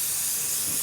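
A spray can lays paint on an RC truck body in one short, steady hiss, close and even from start to finish.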